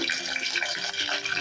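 Mustard seeds dropped into hot oil for tempering a drumstick-leaf dal crackle and sizzle in a dense, continuous hiss, close and fairly loud, with no talking.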